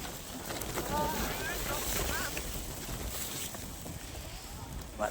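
Steady wind during a heavy snowfall, a continuous broad rushing noise close to the microphone, with faint voices mixed in.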